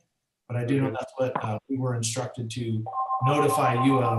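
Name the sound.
telephone ringing during meeting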